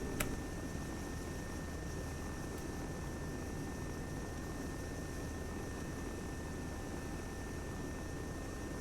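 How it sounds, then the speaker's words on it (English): A helicopter in the ARMA 3 military game, a steady, even rotor and engine drone running continuously at low level with no talk. "Helicopter leaving for the factory in 10 seconds."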